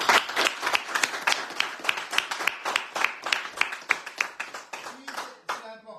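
A small group clapping in a radio studio, quick irregular hand claps close to the microphone that thin out and fade near the end, with a voice speaking briefly at the close.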